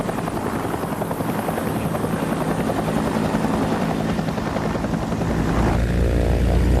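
A helicopter's rotor thumps in a rapid, steady beat, loud and close, growing heavier and deeper toward the end.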